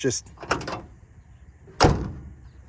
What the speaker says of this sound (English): I mean, how solid of a door is that?